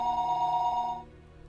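A telephone ringing, one steady electronic ring tone that holds for about a second and then stops. The ring is fairly loud and close, and no voices are heard.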